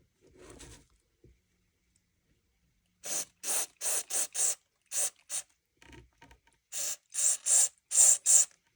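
Paint cleaner is sprayed from a can in short, sharp hissing bursts, roughly a dozen of them, loud and close. Some bursts come in quick runs and are split by brief silences.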